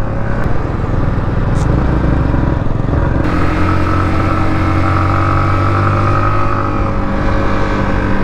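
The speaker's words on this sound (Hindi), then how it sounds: "ये निकली डोमिनार।" A Bajaj Dominar motorcycle's engine drones steadily and loudly at close range on a mountain road, a sustained rumble with a brief shift in tone partway through as it rides past, with no talking.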